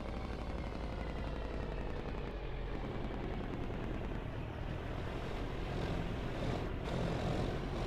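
Aircraft engine in a flight simulator game, a continuous dense propeller-like drone that holds steady and loud throughout with no talk over it.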